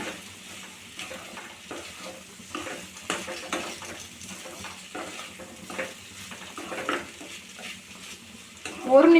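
Steady scraping and stirring of fried okra in a pan with a low sizzle of frying, small utensil clinks scattered throughout, no talking.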